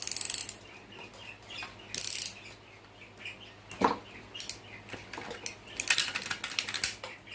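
A ratchet tightens a bolt on a Cub Cadet 102 tractor under restoration, with quick bursts of close, rapid clicking separated by short pauses and a metallic clank, and no voices.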